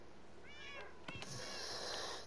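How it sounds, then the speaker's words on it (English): A cat in the Minecraft video game gives a short, faint meow, followed by a couple of soft clicks and a quiet, steady hiss. "Aw, the kitty cat brought me a present."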